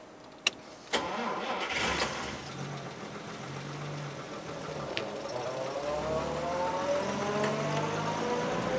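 A 1950s Volvo PV831 engine cranks with a couple of sharp clicks, then catches and settles into a steady, close mid-pitched idle that rises slightly and runs on alone.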